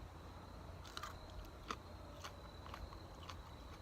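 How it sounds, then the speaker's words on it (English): Several sharp, crisp crunches of biting into a firm raw pepper, spaced irregularly over quiet background hiss. "Nice and crunchy, really crunchy actually."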